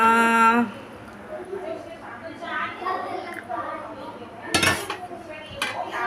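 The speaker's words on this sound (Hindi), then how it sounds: "और अब मैं चाय निकालूंगी।" Dishes and cutlery clink and clatter in a home kitchen while tea is poured out, with someone talking over the sounds and a sharper burst of clatter near the end.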